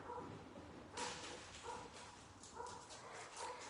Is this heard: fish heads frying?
no